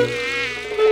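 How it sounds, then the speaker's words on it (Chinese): A swarm of mosquitoes buzzes close and loud, a steady high whine with no break for under a second. "飞来了一群蚊子"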